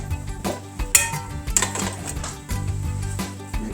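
Browned chorizo is scraped and stirred in a pot at a cabin, with uneven metallic clinks and scrapes of a utensil against the pot and a couple of sharper knocks, fairly close.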